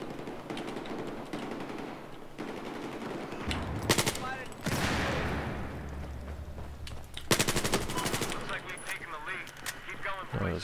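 An M416 rifle fires in the video game Battlefield 4 with suppressed bursts and single shots. Loud cracks stand out against a rumbling battlefield background, and a voice talks at times.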